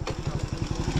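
A motorcycle rolls along a road on the route from Nepal into India, its engine close and loud with a steady, throbbing low rumble that pulses evenly throughout.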